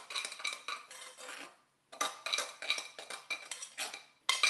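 A spoon scrapes and clinks around a bowl of brownie cheesecake oats in quick repeated bursts of stirring, with two brief pauses. It is close and fairly crisp.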